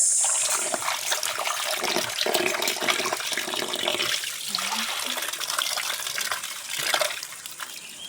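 Mangoes for mango raita are washed in a kitchen under running water, which splashes and trickles continuously at moderate loudness with occasional louder surges and no talk.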